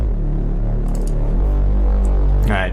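A low, steady distorted sine-wave synth tone with buzzy, gritty distortion, sustained and loud throughout, with a brief brighter burst near the end.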